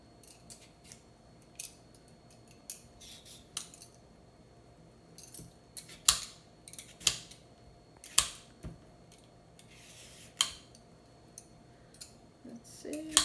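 Cucumber being peeled by hand in a kitchen, a series of quiet scraping strokes and light clicks spaced irregularly, with occasional louder snaps, close and fairly soft, with no voices.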